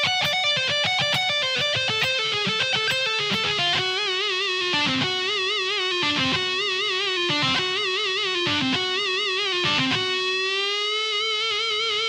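Electric guitar with distortion playing a solo lick slowly: a run of sustained, bent notes with shifting pitch, repeated phrases and short gaps, played alone with no talk.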